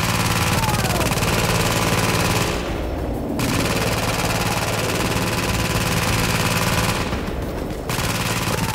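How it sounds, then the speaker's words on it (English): A sentry gun firing in the video game The Division, continuous loud automatic gunfire with an engine-like drone underneath, broken by two brief dips in the sound. "my sentry gun will sort him out"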